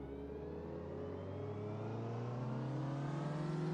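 A Ginetta Junior race car in the Automobilista 2 racing game accelerates from a standing start on a damp track, its engine droning steadily and climbing gradually in pitch, heard alone without talk.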